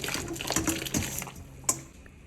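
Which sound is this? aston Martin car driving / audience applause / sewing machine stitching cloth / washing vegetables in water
washing vegetables in water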